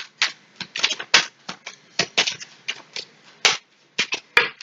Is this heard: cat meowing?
no